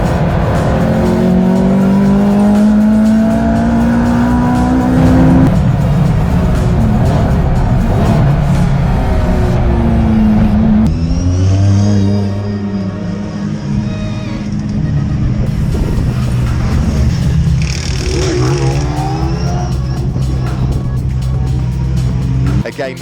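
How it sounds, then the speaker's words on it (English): Race cars, including a Ferrari F430 on slicks, lapping Snetterton circuit in deteriorating conditions during a CSCC race, with loud engine roar, revving and passing cars under continuous commentary. "William Ashmore, fastest lap of the race he's just done in the wheel of the Ferrari"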